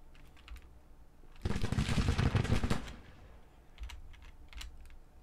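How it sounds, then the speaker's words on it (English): A burst of rifle volleys rings out in the Civil War strategy game Grand Tactician, a dense crackle of massed musket fire lasting about a second and a half, with lighter scattered shots before and after. "And now our rifles open up."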